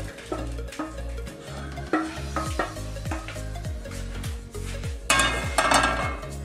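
Cooked calamari tipped into a bowl and mixed, a steady rhythm of utensil scrapes and clinks against the bowl, close and moderately loud, with wet stirring sounds throughout.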